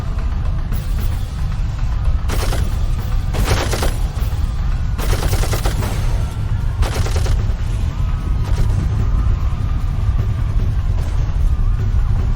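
Loud, continuous gunfire from the video game Darkest of Days, with bursts of rapid automatic fire over a heavy low rumble, dense and close throughout.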